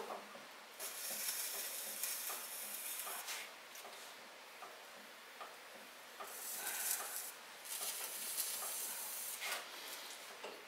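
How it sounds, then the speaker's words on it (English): A wooden throwing stick scrapes wet clay from the base of a 14 oz pitcher turning on a potter's wheel, giving a soft, hissy rasp that swells and fades in bursts against a steady hum. "using my throwing stick here to just clean away the clay at the base there"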